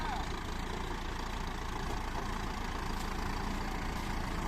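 An MU5702 tractor's four-cylinder turbo engine runs steadily in a sugarcane field, a continuous low rumble with broad noise throughout and no clear change in pace.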